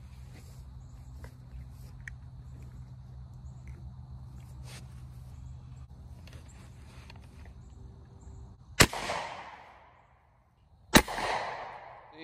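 A 10mm Hi-Point pistol is fired into a bag of concrete outdoors: two sharp, loud gunshots about two seconds apart, each with a ringing decay, after quiet background rustle.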